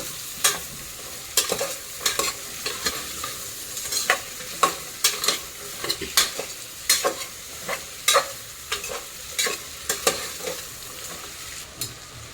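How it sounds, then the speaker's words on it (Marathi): Vegetables for pav bhaji sizzle in a hot pan while a spoon stirs them, giving sharp, irregular scraping clacks roughly every half second over a soft continuous frying hiss, close up with no talking. "चांगलं परतून घ्यायचं असं"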